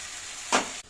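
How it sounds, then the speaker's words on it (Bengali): Onions and spices frying in a pan for chicken biryani make a steady hiss, with a brief louder burst of sizzle near the end, close and with no voices. "এখন একটু ভাজা হোক"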